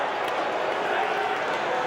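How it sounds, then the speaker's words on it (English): A rugby stadium crowd at a Cardiff Blues versus Leinster match roars in a steady, broad cheer, loud and sustained throughout. "Well, listen to the crowd."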